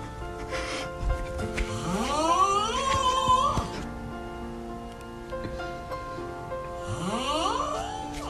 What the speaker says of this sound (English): This guy snores in a way that makes snoring so funny and interesting.